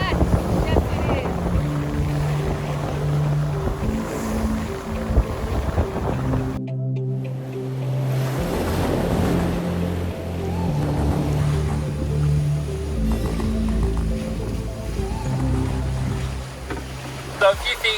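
Elan Impress bluewater cruising yacht under sail at about seven knots, with a steady broadband rush of water and wind along the hull, continuous and fairly loud, a brief lull near the middle, and faint voices partly audible beneath.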